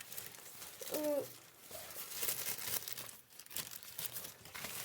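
Crinkly plastic rustling and crumpling close by, with a brief tearing stretch among the rustle.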